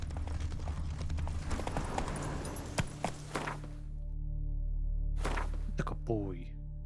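Hooves of a horse clop rapidly in The Witcher 3 video game, a busy galloping rhythm for a few seconds that cuts out into a low game drone, then a brief clatter and faint voice near the end.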